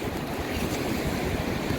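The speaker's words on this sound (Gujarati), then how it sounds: "પહેલાં અહીંથી બતાવી દઉં પાણીનો વેગ કેટલો છે" Fast-flowing floodwater of the swollen Sabarmati river near the Sapteshwar Mahadev temple, a steady loud roaring rush like surf, with wind buffeting the microphone.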